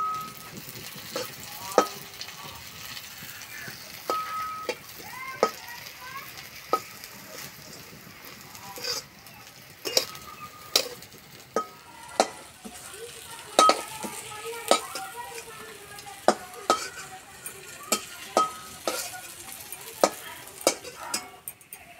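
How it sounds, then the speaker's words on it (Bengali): Jackfruit seed fritters fry in oil in a pan with a steady sizzle, broken by frequent sharp clicks and taps of a utensil against the pan. "আর এই যে ভাজা হচ্ছে, কি সুন্দর গন্ধ বেরিয়েছে"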